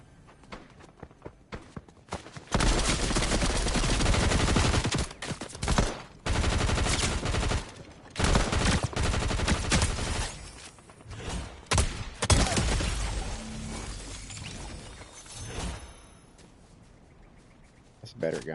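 Gunfire in the video game Fortnite, with repeated loud bursts of shots crowding most of the stretch and a few short quiet gaps between volleys, while a voice talks at times.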